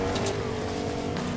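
Car engine droning and roaring in the Fortnite video game, a brief continuous loud motor sound with a faint high whine.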